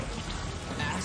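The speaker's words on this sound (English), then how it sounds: "Acid rain?" Acid rain pours down steadily in a Max Steel television commercial, a dense, continuous hiss of falling drops over a brief moment, fairly soft and even throughout.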